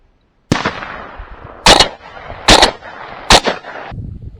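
Shotgun blasts from a Benelli and a Mossberg youth pump at an opening-day dove hunt in an open field, four loud sharp shots spaced about a second apart, each with a trailing outdoor echo.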